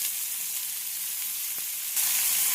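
Chopped cabbage and carrot frying with mustard seeds and curry leaves for Kerala cabbage upperi, giving a steady close sizzle that brightens and grows louder near the end, with no talking.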